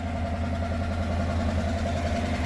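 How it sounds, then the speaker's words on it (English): A 1969 Rambler American 440 wagon engine idles steadily up close, a low even rumble with a faint regular ticking from the exhaust running through it. "You can hear there's a little bit of an exhaust tick."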